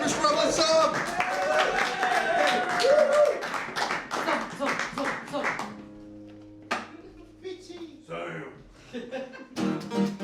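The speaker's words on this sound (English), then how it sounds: "start stamping on feet. Clap the hands and go wild and crazy for Mr. Ramblin Sam!" Live audience at the St. Johns Comedy Club clapping and cheering for a comedy act, a steady burst of applause mixed with a voice speaking over the crowd before the noise thins out.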